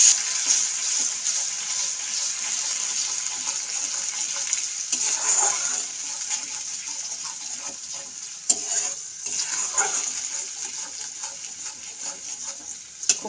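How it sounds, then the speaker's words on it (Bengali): Ground spice paste fries in oil left over from frying onions, for a chicken kosha; a steady close sizzle and crackle runs throughout with brief stirring scrapes, no voices. "ওই তেলের মধ্যেই আমি দিয়ে দেবো বেটে রাখা মশলা"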